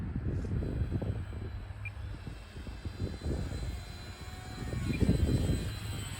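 A Sport Cub S2 RC airplane flying in gusty wind over a front yard gives a thin, faint electric-motor whine under heavy, uneven wind buffeting rumble that swells and fades.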